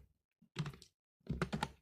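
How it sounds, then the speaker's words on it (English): Typing on a computer keyboard in two short bursts of close, soft keystrokes separated by a brief pause in a quiet room. "So I'll type here"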